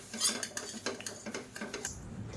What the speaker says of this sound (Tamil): இப்போ இதை மேஷர் வச்சு எல்லாத்தையும் நல்லா மசிச்சு விட்டுக்கலாம்